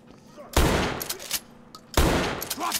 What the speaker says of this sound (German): Habe ich da daneben geschossen, den ersten Shot?